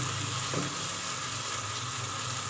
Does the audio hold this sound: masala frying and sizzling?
yes